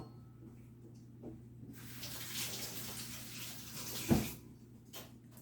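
A lemon is washed under a running kitchen tap, a soft hiss of water that starts after a quiet moment and runs steadily, with a brief knock partway through.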